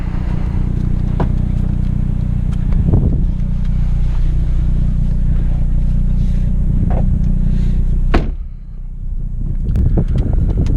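Hyundai Veloster N on warm Pirelli tyres doing a burnout with traction control off: a loud, sustained engine drone and tyre roar that briefly dips around eight seconds before surging again.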